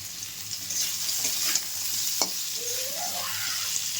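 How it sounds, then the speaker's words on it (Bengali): Pumpkin, papaya, potato, carrot and radish fry in a covered pan on low heat, giving a steady, gentle sizzle close by with a few faint clinks and scrapes. "মানে আঁচটা কমিয়ে দিয়ে ভাজছি।"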